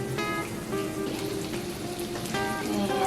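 Shallot frying in melted butter gives a steady, close, crackling sizzle like light rain, with faint tonal sounds drifting in and out.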